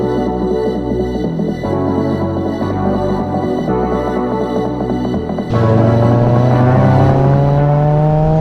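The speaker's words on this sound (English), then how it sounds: "We're going to take this car for a quick drive on the country roads" An Alfa Romeo GTV (916) Twin Spark with a 2-litre engine runs steadily on country roads with shifting pitch, then revs higher and louder partway through, the tone climbing smoothly as it accelerates.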